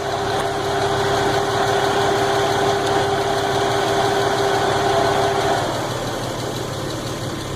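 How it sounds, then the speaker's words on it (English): A turbocharged 2JZ engine in a Lexus SC300 runs with a misfire, giving a steady close engine drone with a faint tonal whine that cuts out near the end. "the engine is misfiring"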